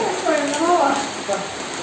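A steady downpour of heavy rain hisses outside a house party in Nagaon, continuous and fairly loud, while people talk over it.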